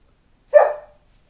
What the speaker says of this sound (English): you don't need to bark. Barking is what gets you exiled.